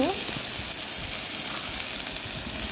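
Spice paste and salt sizzle steadily in hot oil in a pan for a koi fish curry, a loud, even hiss with faint stirring scrapes underneath and no pauses.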